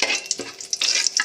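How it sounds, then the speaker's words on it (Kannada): Whole spices (bay leaf, cinnamon, cloves, cardamom) fry briefly in hot oil for an egg gravy, giving a short burst of sharp sizzling crackles with a few scraping stirs. "2 ಸೆಕೆಂಡಲ್ಲಿ ಫ್ರೈ ಆಗುತ್ತೆ."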